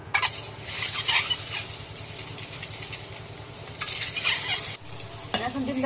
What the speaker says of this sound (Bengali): এখন ডিমগুলো তেলের মধ্যে ভাজতে নিই।